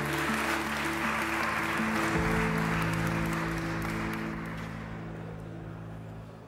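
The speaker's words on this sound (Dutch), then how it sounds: "Mag ik een applaus voor hem?" Applause from the audience at the Dutch presentation of WRR report no. 105 on AI, a broad steady wash of clapping that carries under a low musical hum and slowly fades toward the end.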